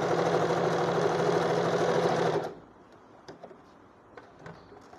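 A sewing machine stitches fabric in a loud steady run for a couple of seconds, then stops abruptly, leaving faint scattered clicks and quiet room sound.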